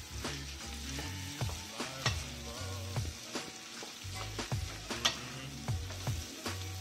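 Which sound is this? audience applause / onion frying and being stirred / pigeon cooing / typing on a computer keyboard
onion frying and being stirred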